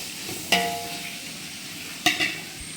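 Tomatoes and mixed vegetables for a large vegetable biryani fry in a pan with a low steady sizzle, broken by two sharp metallic scrapes of the stirring ladle, close by and with no talking.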